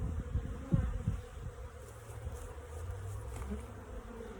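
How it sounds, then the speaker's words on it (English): Thousands of honeybees buzz around an open hive on a bee farm, a close, continuous low drone with a few louder passes of single bees near the start. "there's only one queen in the hive and there's thousands of bees here"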